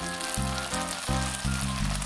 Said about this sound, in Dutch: Hier hoor je ook dat de paella langzaam maar zeker begint te bakken.